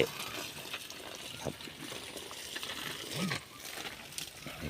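Eggplant seedlings in a vegetable garden being watered, a faint, continuous trickle and splash of water with occasional quiet speech.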